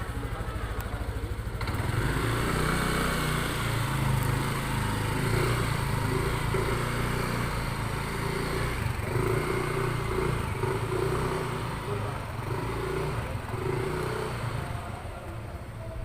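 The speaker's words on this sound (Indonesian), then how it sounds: "belajar bagaimana kita menguasai motor dengan rute atau sirkuit zigzag" A motorcycle rides a zigzag practice circuit at a safety-riding training session: a continuous, close engine drone with the throttle rising and easing as it weaves, loud and steady throughout without talking.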